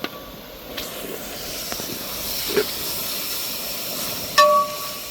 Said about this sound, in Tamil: சும்மா முறு முறு முறுன்னு வறுத்து வச்ச காளான் இந்த மாதிரி சத்தம் கேட்கணும்